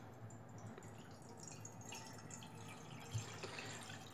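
Water trickles and splashes into a pan for boiling eggs, a soft continuous pour with small drips, close by and fairly quiet, over a low background hum.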